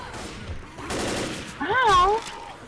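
Bursts of gunfire in the zombie shooter game Left 4 Dead crackle in short volleys under excited talking from a player.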